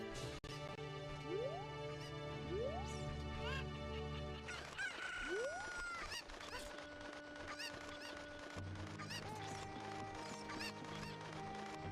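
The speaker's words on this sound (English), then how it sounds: "my chickens are kind of all over the place" Chickens in a farming video game cluck and crow, with several rooster crows and squawks layered over steady synthesized game music, bright and close throughout.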